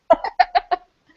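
Chickens cluck in the video game Alphadia Genesis: five short, close clucks in a quick uneven run, with nothing else heard.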